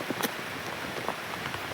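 Heavy rain falls in a dense, steady hiss with a few sharper drops and patters standing out, close and continuous.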